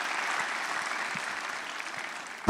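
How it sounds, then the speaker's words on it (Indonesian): Applause from a stand-up comedy audience in Indonesia, given for a comedian introduced as a pioneer of the scene. It is a steady, dense wash of many hands clapping throughout, with a brief louder burst at the very end. "Coba tepuk tangan buat Mas Ernest coba."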